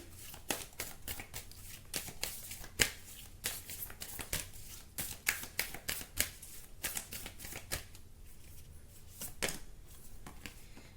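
A tarot deck is shuffled up close in rapid crisp snaps and flicks that repeat in uneven bursts throughout, fairly quiet overall, with no speech.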